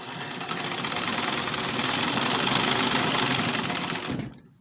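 A sewing machine runs steadily for several seconds, stitching fabric for a traditional Nigerian iro and buba outfit, loud and continuous with a buzzing motor drone, then winds down and stops at the end.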